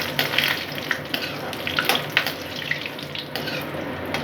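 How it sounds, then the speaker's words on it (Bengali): Dried lentil dumplings (bori) fry in hot oil for a bottle gourd ghonto, giving a close, steady, hissing sizzle with scattered crackles and light stirring scrapes, with no voices. "ছোট বাটি নিয়ে আমি বড়িগুলোকে ভালো করে ভেজে নিচ্ছি"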